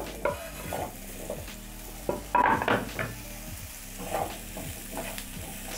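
Potatoes frying in a pan, with spatula stirs and scrapes against the metal over a constant sizzle, a few louder clattering strokes in the middle.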